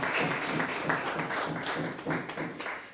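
A crowd applauds steadily, a dense wash of many hands clapping at moderate volume throughout.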